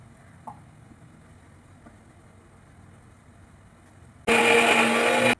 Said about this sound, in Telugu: ఇప్పుడు మిక్సీలో పట్టేసుకుందాం.